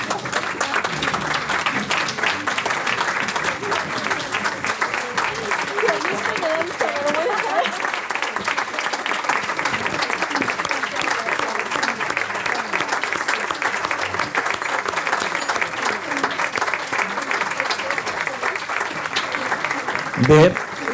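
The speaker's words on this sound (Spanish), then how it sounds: "Crec que es mereix un aplaudiment de tota la sala, diria gairebé dempeus" A full audience applauds a guest speaker at the close of a talk in a hall, producing dense, continuous clapping that holds steady throughout.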